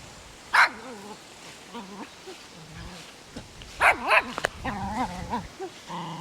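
A dog barks a few short, sharp times by a lakeside beach with old buildings nearby, the yelps spaced irregularly and fairly close amid outdoor background noise, with a few whimpering yips mixed in.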